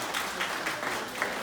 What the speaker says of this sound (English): Let's give Esteline a round of applause for making it here.